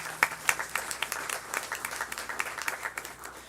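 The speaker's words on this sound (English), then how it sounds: "Another round of applause" Applause at a school board meeting honoring a student, a scattered round of hand clapping with sharp individual claps standing out, moderately distant and steady for a few seconds.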